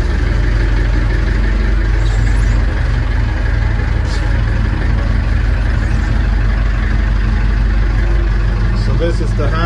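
An engine-driven machine runs while slewing left to right after its slew motor was repaired, giving a loud, constant, close diesel-like rumble and idle throughout with no break.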